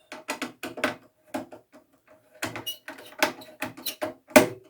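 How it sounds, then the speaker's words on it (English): Screws being undone on an HPE ProLiant MicroServer Gen10 Plus: a series of short, close clicking and ratcheting ticks in uneven clusters, quiet and with no talk over them. "Alright, I gotta do more unscrewing."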